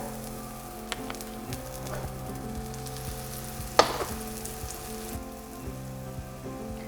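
A banana pancake sizzling softly in a pan just after being flipped, a low steady frying hiss with a sharp clack midway, close and fairly quiet, with no voices.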